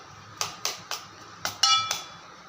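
A utensil mixes beaten eggs into an oats batter in a bowl, making about six sharp clinks and taps against the bowl in an uneven rhythm, close and fairly quiet with no voices.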